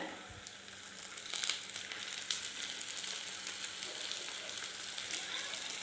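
Cleaned meat goes into a hot pan of ginger and garlic masala and sizzles in a steady, crackling fry that holds close and fairly loud throughout.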